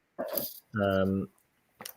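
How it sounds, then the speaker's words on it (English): A dog growls in one low, sustained rumble lasting about half a second, heard up close on a live video call, with bursts of speech just before and after. "your dog's having a bit of a growl"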